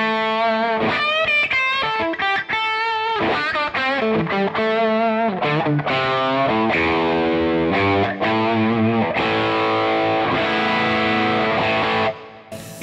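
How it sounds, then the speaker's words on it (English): Electric guitar played through a single-channel amp with heavy distortion, loud and continuous chords and sustained notes with some effects shimmer, ringing out alone before stopping near the end. "It's just the most articulate distortion sound of any amp."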